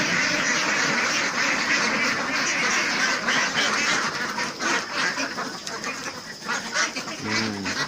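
A flock of laying ducks, including young females, quacking continuously in a noisy, dense chorus, steady and close throughout, while being fed apple snails.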